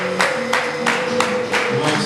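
A crowd at a wedding reception claps in a steady, rhythmic beat, the bursts evenly spaced and fairly loud over a faint sustained tone.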